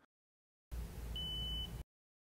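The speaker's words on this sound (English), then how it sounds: "Press and hold a channel preset button until a beep sounds." A 2013 Mazda5 car audio system gives a single short, thin beep when a channel preset button is pressed and held, over a steady low hum.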